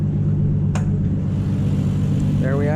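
A Mazda RX8 fitted with a Toyota 2JZ engine idles steadily, a loud continuous low rumble throughout, with a short voice near the end.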